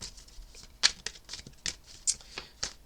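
Tarot cards shuffled by hand in a run of quick, crisp riffling bursts with short pauses between them, close and moderately loud with no talking.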